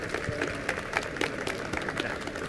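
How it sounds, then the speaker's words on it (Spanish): An audience applauds after a social coding talk at a CPMX4 tech event. The clapping is fairly faint and thin over a couple of seconds, with individual claps standing out. "Bueno, les pido un fuerte aplauso para Aldair."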